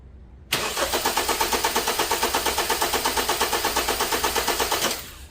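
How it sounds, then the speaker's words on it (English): A car engine cranks on its starter during a voltage drop test, about four and a half seconds of rapid, even rhythmic chugging that starts abruptly and stops without firing, close and loud. "We crank our engine"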